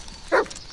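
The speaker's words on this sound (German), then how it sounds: "Und er bellt." A single short dog bark in the horror video game Blair Witch, heard once at moderate distance over a quiet background.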